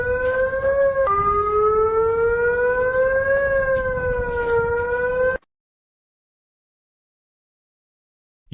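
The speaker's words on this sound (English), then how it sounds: "This is the part of the siren system for Afghanistan." Afghanistan civil defense siren sounding loud and steady, a harmonic-rich wail that shifts pitch slightly a few times over about five seconds, then cuts off abruptly into silence.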